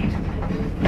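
A V-IRM Regiorunner train runs near Leiden Centraal, heard from the front cab: a steady, close low rumble with light rail clatter throughout and no voices.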